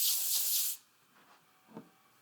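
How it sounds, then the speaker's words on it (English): A short, close hiss of nonstick cooking spray inside a cheesecake pan lasting under a second, followed by quiet and a faint soft knock. "Spray the inside with nonstick spray and set aside."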